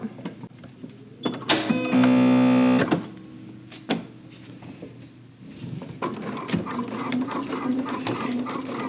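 Sewing machine stitching two gathering lines on a soft fabric sleeve: a close, steady mechanical whir of about a second, with handling clicks and fabric rustle around it and no talk.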